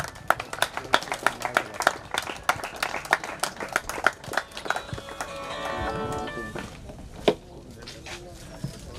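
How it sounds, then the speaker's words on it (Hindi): Scattered audience clapping welcoming an official at an outdoor kayaking and canoeing association event at Fatehsagar Lake in Udaipur, with uneven claps, a voice talking midway, then a few final claps. "जोरदार तालियों से स्वागत सुनील केवट"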